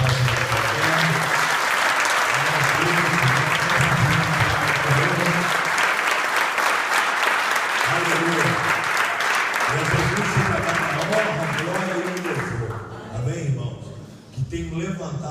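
Church congregation applauding loudly and steadily for several seconds, with a low voice speaking over the clapping; the applause thins out near the end.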